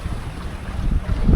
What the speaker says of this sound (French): Le vent 14 nœuds se maintient